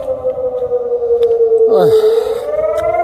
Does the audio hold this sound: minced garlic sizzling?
no